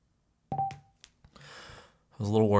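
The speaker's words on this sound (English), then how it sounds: "The last beep is when it pairs with my phone." Archeer A320S small portable speaker sounding a short series of electronic pairing beeps, a few brief tones spaced apart with a final longer chime as it connects to a phone.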